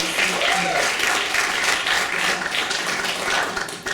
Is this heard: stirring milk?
no